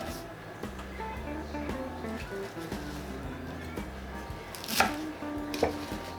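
A kitchen knife chops through cilantro stems on a cutting board while chimichurri sauce is being made, a steady run of crisp, rhythmic cuts heard up close.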